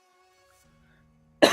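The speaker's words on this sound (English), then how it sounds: "I'm sorry for the coughing." A single short cough bursts out loud and close after near silence, one harsh throaty burst at the very end with no talking.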